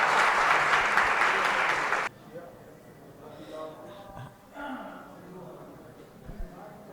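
An audience greets a poet with loud, dense clapping that cuts off abruptly after about two seconds, followed by quiet murmuring and a voice speaking.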